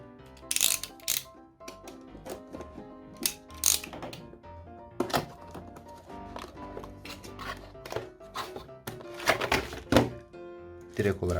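Cardboard rustling, sliding and clunking thuds of a Logitech MK220 keyboard being taken out of its box, in irregular bursts of handling noise, with a few tonal sounds throughout.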